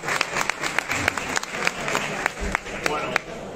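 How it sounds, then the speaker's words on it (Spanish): Audience applause at a photography festival keynote, a full room clapping steadily with a few louder individual claps rising out of the mix, while voices murmur underneath. "Un aplauso para Sergio."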